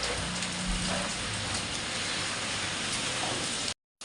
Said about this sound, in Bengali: এই বৃষ্টি যা লাগিয়েছে সকাল থেকে, এই বৃষ্টি আর কমবে না।